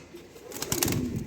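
Pigeons offered for sale coo softly at close range, followed by a short flurry of wing flaps and rustling as birds shift about.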